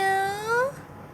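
A single high, thin kitten meow rising in pitch, close and fairly clear, at a traffic light near That Luang, then fading into quiet background.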